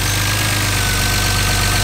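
Close up, a stock BMW M3 engine sits at idle, its dense, loud mechanical hum carrying a rapid steady ticking beat with a noisy top end and no voices.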